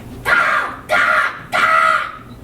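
Crow caws in a high school stage production of Aristophanes' The Birds, three loud harsh calls close by, each about half a second long and evenly spaced with short gaps.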